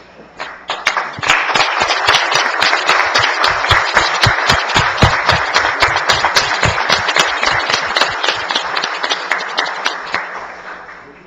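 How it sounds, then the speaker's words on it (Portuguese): A municipal council chamber breaks into standing applause after a vote passes, many hands clapping in a dense, sustained roar with sharp individual claps, swelling quickly, holding steady for several seconds, then thinning and fading out. "Convido a todos os presentes, os nobres pares, que em pé façamos uma salva de palmas."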